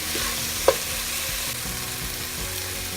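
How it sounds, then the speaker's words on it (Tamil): Tomatoes sizzle steadily in a pan for a Thanjavur-style South Indian crab curry, a continuous close frying hiss with one brief sharp clink of a utensil early on. "தக்காளி கொஞ்சம் நேரம் குக் பண்ண விடுவோம்"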